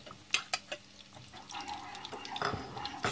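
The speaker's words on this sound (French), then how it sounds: "Bon, je mélange." A spoon stirs fried tofu through sweet and sour sauce in a pan, giving a few sharp clicks against the metal at first, then a soft, quiet sizzle and scraping that go on with no talk.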